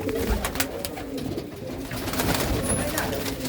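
Low, continuous cooing from a hand-held female pigeon at a Hoshiarpur pigeon keeper's place, fairly close and steady beneath a rustling, cluttered background.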